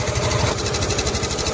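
A 2025 Suzuki Access 125 scooter runs just after a cold start, its small engine putting out a quick, even exhaust putter close by, a brief steady idle beat.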